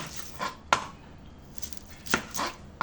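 Onion and garlic are chopped on a cutting board with a knife, giving a few sharp, irregular chops close by over a quiet background, with no voices.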